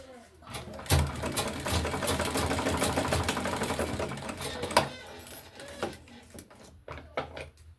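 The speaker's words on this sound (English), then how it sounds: "So we're going to stitch it with the 1/4 inches." A sewing machine running a quarter-inch seam on a tote bag with adjustable straps, heard as a close, steady mechanical whir of rapid stitching lasting several seconds, bracketed by clicks and handling noises.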